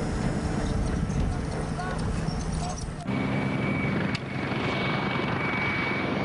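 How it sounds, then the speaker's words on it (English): Mi-24 helicopter rotor chop thumps steadily with a dense engine roar, heard continuously and fairly loud, its tone shifting partway through. "these choppers fly in mock battle, playing at war"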